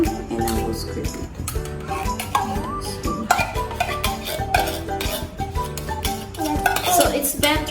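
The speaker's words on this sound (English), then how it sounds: "So put on the cream and I will scrape it." Chilled Nestle cream being scraped from its container into fruit cocktail: steady, busy scraping and clinking of a utensil against the container, close and fairly loud throughout.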